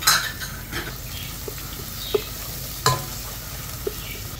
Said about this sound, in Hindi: जिंजर और गार्लिक को फ्राई करने के लिए, सब सोते करेंगे।